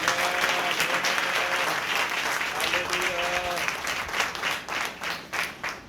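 A church congregation claps loudly and continuously, the applause thinning into separate rhythmic bursts near the end, while a voice speaks or sings over it.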